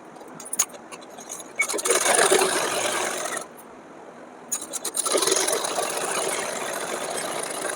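A sewing machine stitches blouse fabric in two loud, steady bursts of close mechanical whirring and ticking, separated by a short lull of quieter handling.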